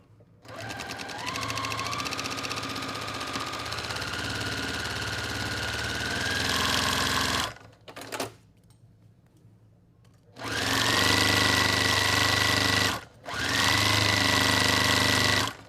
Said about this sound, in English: now I'm going to stitch with a 1/4 inch seam